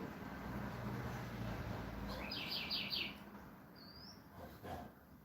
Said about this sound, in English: I hear birds in my live stream